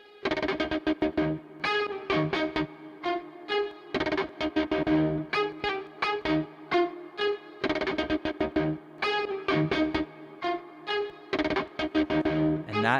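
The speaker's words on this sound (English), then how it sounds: "that guitar going through a filter from Arturia" A loud, distorted electric guitar riff chops in rhythmic bursts, its tone swept and squeezed by an Arturia filter over a driving pulsing pattern.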